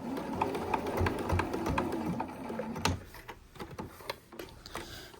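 A sewing machine backstitches a seam on fabric for a bowl cozy, running in a fast, even stitching patter for about three seconds, then slowing into scattered clicks and taps.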